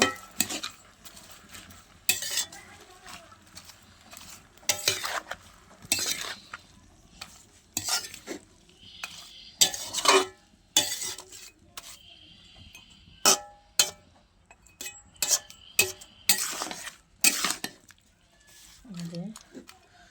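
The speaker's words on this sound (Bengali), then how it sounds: "তো এই পর্যায়ে আমি লবণ, হলুদ এবং চিনি দিয়ে ভালো করে মিক্সড করে নেব।" Spinach with salt, turmeric and sugar is stirred in a pan with a spoon, giving intermittent close scraping strokes over a soft sizzle, with a voice heard now and then.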